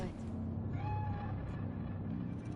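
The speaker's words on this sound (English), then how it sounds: "Do you see it? That cat? Fine-looking feline." A cat in the video game Cyberpunk 2077 lets out one short, faint meow over the game's steady low ambience, with quiet voices in the background.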